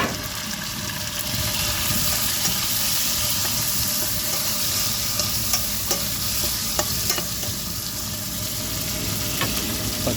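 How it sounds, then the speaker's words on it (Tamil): Tomatoes fry with sautéed onions for a fish curry, producing a dense, continuous sizzle close by, broken by occasional clicks and scrapes of stirring, with a low background hum underneath. "வெங்காயம் வதங்கிட்டு தக்காளி சேர்த்துருக்காங்க"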